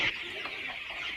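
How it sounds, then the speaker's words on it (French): Chickens on a poultry farm of about 2,500 birds, a steady close flock of soft clucks and calls running continuously with no talk. "2500 poulets."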